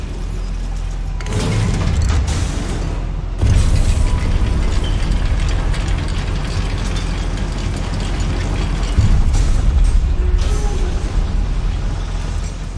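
A loud, sustained blast of the Confringo fire spell in the video game Hogwarts Legacy, set in goblin mines, roars as dense rumbling with bursts swelling again partway through over steady in-game noise.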